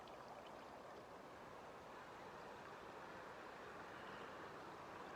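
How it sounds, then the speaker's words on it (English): A small bubbling creek flows in an outdoor setting, giving a steady, soft wash of water noise that stays even and continuous throughout, with no voices over it. "There's a little creek, a little bubbling brook right there."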